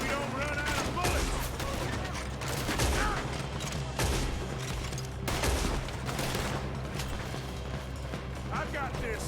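A dense stream of rapid gunfire from a Red Dead Redemption 2 shootout keeps going nonstop, with clustered shots, some hoofbeats and game voices mixed into the loud, busy scene.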